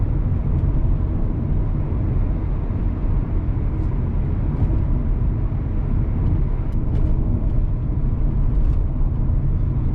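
A 2017 Audi A4 manual sedan cruises along a rough backcountry road, heard from inside the cabin as a steady, even low road and engine rumble with faint tire noise and a few light taps, no one speaking.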